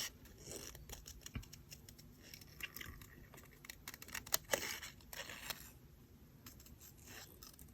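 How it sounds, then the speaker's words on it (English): Scissors snipping through a small piece of card while making a triple layer card, trimming rounded edges around an egg-shaped print; a close, irregular run of short crisp cuts and paper rustles with no talking. "And just try and always move the little card and keep your scissors fairly still."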